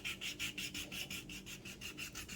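A crystal hair remover rubs back and forth over rough skin on a foot, making a soft rhythmic rasping. About ten quick strokes sound close and quiet.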